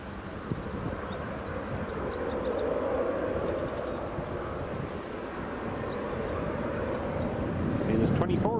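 A Boeing 787 rolling down runway 24 at Edinburgh Airport produces a steady, distant jet rumble that swells slightly, while people talk nearby over it.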